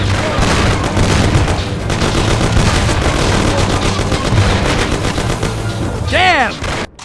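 Loud, sustained gunfire in a shootout from the video game Mafia: The City of Lost Heaven, rapid shots and bursts layered over each other with booms, and voices shouting amid the fight.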